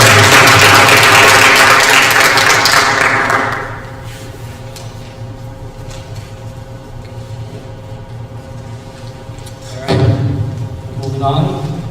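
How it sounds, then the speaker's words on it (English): Loud applause from the audience at a public school board meeting fills the opening seconds, then cuts off into room noise before a short thumping burst near the end. "give him a round of applause"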